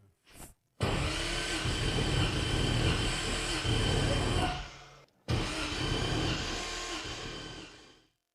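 An engine cranks steadily for a few seconds during a compression test, stops briefly, then cranks again in a second run, loud and close.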